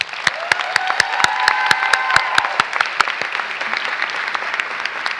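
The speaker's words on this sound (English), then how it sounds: "Please join me in giving Miss Hannah Pittman a round of applause." A commencement audience applauds steadily for a graduate, dense clapping filling the hall with a few sharper nearby claps, a faint tonal ring drifting through midway, the applause thinning slightly toward the end.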